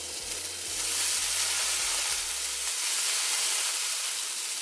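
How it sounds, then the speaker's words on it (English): Bacon sizzles loudly and close in a hot frying pan with a little melted butter, a dense continuous hiss with a low stove hum under the first half. "And you hear that sizzle,"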